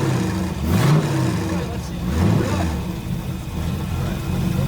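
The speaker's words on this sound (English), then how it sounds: "Rev it up a little bit." A 1973 Chevy Camaro split-bumper, sitting unused for at least 10 years, revs after a cold start, its engine swelling in two throttle blips over a steady rumble while people talk nearby.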